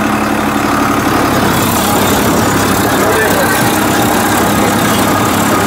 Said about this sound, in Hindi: तो वहाँ हार्ड मिट्टी के हिसाब से रूटावेटर हमारा चल रहा है